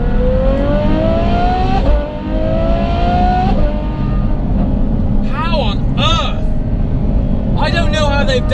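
A Ferrari F12-based sports car with a cross-pipe exhaust revs hard, rising and falling through several bursts, with crackling pops between pulls; loud and close.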